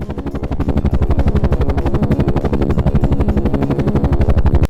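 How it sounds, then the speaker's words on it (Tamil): Rapid rhythmic thumping of helicopter rotor blades, steady and loud from start to finish, with no voices. "இது ஹெலிகாப்டர்"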